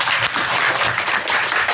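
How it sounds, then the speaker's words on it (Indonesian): A burst of audience applause at a spoken talk event, dense and loud clapping from many hands filling the whole moment, close and continuous. "Tepuk tangan sekali lagi Kang Abu"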